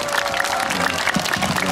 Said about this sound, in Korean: 자 우리 김웅욱 회장님 위해서 다시 한번 응원의 박수 부탁드리겠습니다